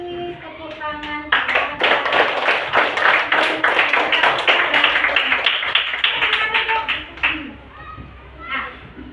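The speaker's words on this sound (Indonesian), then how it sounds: "Silahkan duduk dan beri tepuk tangan." Students in a classroom clapping after a group presentation, a brisk burst of many hands starting after a short spoken line and continuing for several seconds before fading, with children's voices chattering over and after it.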